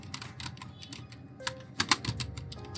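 Typing on a computer keyboard, a quick run of light key clicks with a few sharper taps, close and alone.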